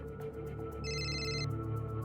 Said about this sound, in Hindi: मिश्रा जी का फोन